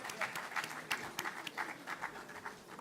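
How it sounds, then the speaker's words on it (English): Scattered applause for finance managers at a ministerial presentation of the 2023 budget: uneven, sparse claps with distinct individual hand strikes, fairly faint and distant in a large hall. "Please, a round of applause for our finance managers."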